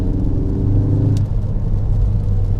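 A Dreamscience-tuned Mk4 Ford Focus ST with about 330bhp pulls hard under acceleration, its engine a loud, dense rumble and roar heard from inside the car.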